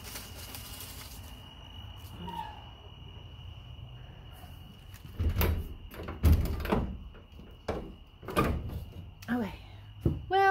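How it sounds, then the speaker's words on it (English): A school bus door swings shut with a couple of solid thunks and a rattle, loud and close, following a stretch of quiet room tone with faint insect chirps. "let's shut the door and see how I did"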